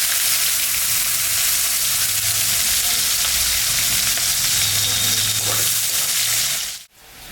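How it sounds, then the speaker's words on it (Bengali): Chopped onion, cumin, dried red chilli and bay leaves frying in hot oil, a loud, dense, steady sizzle that cuts off abruptly near the end. "শুকনো লঙ্কা সম্বরা দিলাম, জিরা দিলাম, দুটো তেজপাতা দিয়ে দিলাম, কাটা পেঁয়াজ দিয়ে দিলাম।"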